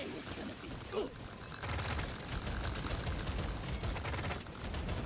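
Continuous rapid gunfire mowing down a swarm in Deep Rock Galactic: Survivor, a dense steady rattle of shots over a busy game mix, loud and unbroken throughout.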